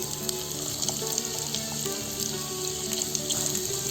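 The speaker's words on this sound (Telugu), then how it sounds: "ఇది గోల్డెన్ బ్రౌన్ కలర్ వచ్చే వరకు వేయించుకోవాలి." Carrot pieces fry in a pan with leftover oil after green chillies were fried, giving a steady, dense sizzle and crackle that stays close and even throughout, with no voices.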